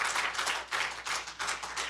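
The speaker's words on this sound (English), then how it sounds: "Why don't we give him a big clap?" Church congregation at a Sunday service applauding a visiting pastor, a dense, steady clapping from many people that rises and falls slightly in waves, fairly close, with no talking.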